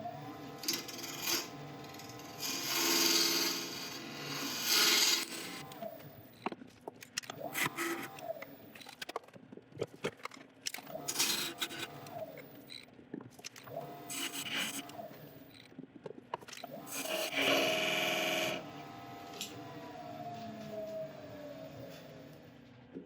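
A boxwood lid being turned on a lathe as a tenon is cut square from the edge, giving intermittent scraping and rasping bursts of tool on spinning wood at close range, no talking.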